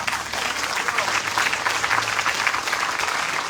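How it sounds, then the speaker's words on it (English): An audience at an interfaith vigil against gun violence claps together in sustained, even applause that fills the whole stretch at a moderate, slightly distant level. "Can I get a clap on that?"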